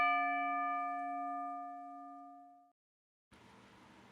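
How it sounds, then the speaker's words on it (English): A wrestling ring bell gives a single bright, ringing strike that decays slowly for more than two seconds, followed by a short silence and then low background noise. "You gotta love the bell."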